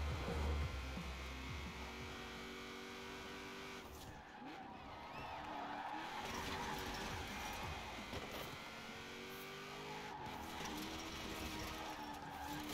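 An LS-engined car laps a mixed-surface track in Forza Horizon 4, its engine droning steadily through gear changes with rising and falling revs and occasional tire noise, continuous and fairly close throughout.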